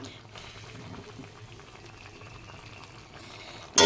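Small fish curry with pointed gourd leaves simmering in a pot, a steady low bubbling boil that runs throughout, with a brief louder clatter at the very end.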